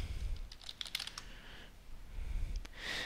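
Computer keyboard keys tapped in short irregular bursts while entering a password, light close clicks with brief pauses between groups of keystrokes.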